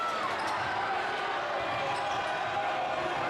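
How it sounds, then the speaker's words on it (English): Crowd noise at a high school girls basketball game between Hopkins and Farmington fills a gym, a loud, steady roar of cheering that holds without a break from start to finish. "listen to the crowd"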